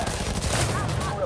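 Rapid gunfire crackles in a burst during Cyberpunk 2077 gameplay in Night City, loud and dense for about a second.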